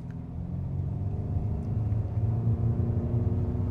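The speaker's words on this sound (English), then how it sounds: "it's a nice acceleration rush of power that's smooth" A 2024 Lincoln Nautilus Hybrid luxury SUV accelerating, heard as a steady low engine and road rumble from inside the cabin, smooth and continuous, building slightly, with no voices.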